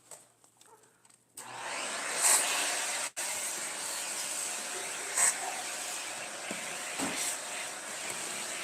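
Window cleaner sprayed during an apartment clean, a steady hissing spray with a few sharper bursts, close and fairly loud, after a brief quiet start.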